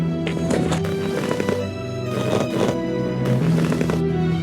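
A horse ridden bareback in a Nancy Drew ranch video game, with steady clip-clop hooves and horse sounds layered over continuous game music.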